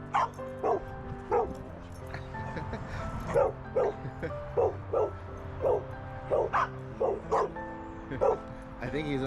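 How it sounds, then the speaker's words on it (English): Two French bulldogs bark in a steady run of short, high yips, close by, with a tonal hum in the background and people talking. "I think he's only barking because she is."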